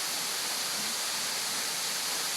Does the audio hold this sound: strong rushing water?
yes